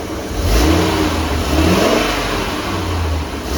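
A salvage Ford Mustang's engine, running without its engine cover, revs loudly and close up, surging up and then settling into a rough, throaty idle-level rumble.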